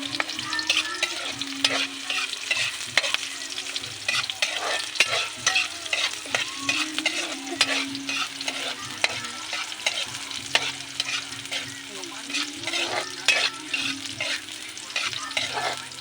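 Chicken neck frying in a pan is stirred repeatedly, giving a steady sizzle broken by frequent scraping and clattering strokes of the utensil for about sixteen seconds, close up and without talk.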